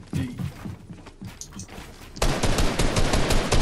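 Rapid gunfire crackles in the Fortnite video game, sparse bursts at first, then turning into dense, loud sustained shooting for the last second and a half.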